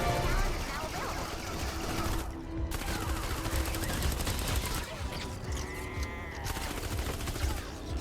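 Rapid SMG gunfire in a video game crackles in dense bursts with only brief pauses, loud and close, mixed with game effects while someone talks over it.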